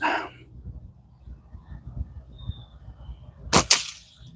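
A single loud gunshot rings out at a bottle cap target during outdoor shooting practice, a sharp crack followed by a brief echo, standing out above low background rumble.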